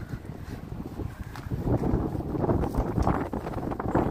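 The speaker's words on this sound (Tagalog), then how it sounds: "Hangin. Hangin." Steady outdoor wind buffets the microphone at a scenic spot, a continuous low rumble that swells slightly louder toward the end.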